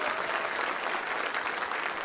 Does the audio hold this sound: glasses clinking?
no